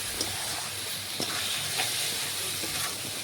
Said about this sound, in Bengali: এখন আমি মটন সেদ্ধ করে জল থেকে তুলে রেখেছিলাম সেগুলো দিয়ে দিচ্ছি। সেটাও ভালোভাবে মশলার সাথে দেখুন কষিয়ে নেব।